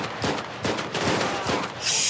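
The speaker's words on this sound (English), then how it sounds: "Shoot, shots fired, shots fired." Rapid bursts of gunfire in GTA 5 during an armored car security patrol shootout, dense overlapping shots rattling continuously for a couple of seconds, loud and close.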